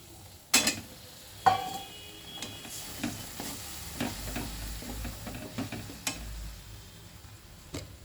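Masala spice paste being fried and stirred in a pan while cooking posto with pointed gourd, giving a low sizzle broken by a few sharp spoon clacks against the pan, fairly quiet and with no talking.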